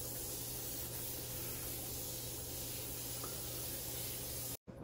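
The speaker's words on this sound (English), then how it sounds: "I am going to spray the chicken with cooking oil." A steady, close hiss of an aerosol can spraying cooking oil onto chicken tenders runs almost without a break, cutting off abruptly just before the end.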